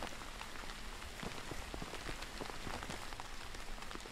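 Rain falls steadily in the survival game Withstand, a constant, fairly quiet hiss of drops on surfaces with no voices or other sounds.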